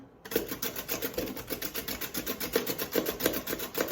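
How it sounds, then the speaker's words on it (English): Carrots grated by hand on a Pampered Chef veggie strip maker, a rapid rhythmic scraping rasp repeating in quick strokes, close and moderately loud, with no voices. "I'm going to use our veggie strip maker, and I'm just going to take our carrots and grate our carrots right into our salad"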